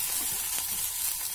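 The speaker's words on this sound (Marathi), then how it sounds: "तव्यावर ठेवूया" Thalipeeth dough pressed onto a hot griddle gives a steady, close hiss of sizzling, with a short brighter crackle midway and no talking.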